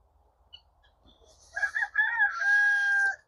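Chickens in a temporary coop on a mountain garden farm give a few soft clucks, then a rooster lets out a loud, drawn-out crow close by, with no talking.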